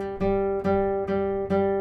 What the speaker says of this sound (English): Put these two fingers together and smash the guitar down like this